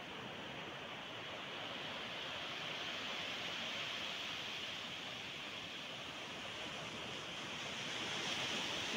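Sea waves on Jadida beach at night, a continuous broad wash of surf rolling in steadily, fairly faint and distant with no voices.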